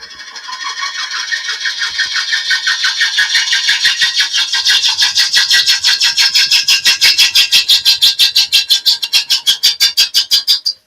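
A woodturning gouge bouncing across the wobbly bottom of a piece spinning on a running lathe, a loud close rhythmic rubbing chatter that grows steadily more distinct pulses as it goes, with no talk.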